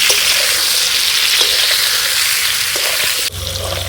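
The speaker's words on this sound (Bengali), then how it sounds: "এখন ভালোভাবে আমগুলো ভেজে নেব" Raw mango pieces frying in oil for pickle, a loud unbroken hiss of sizzling up close, with a low hum coming in near the end.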